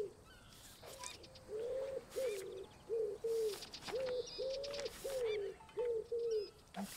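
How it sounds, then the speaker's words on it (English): A pigeon in the wildlife adventure game Alba coos in a rhythmic series of soft, repeated calls, about a dozen short hoots in a row, with faint chirps and ambient noise behind. "I figured that was a pigeon"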